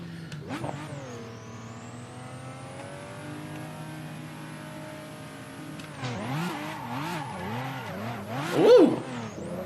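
A MKIV Toyota Supra in the Assetto Corsa racing game revs hard through rising gear shifts, then the engine note wavers up and down as the car races, with a short tire squeal near the end.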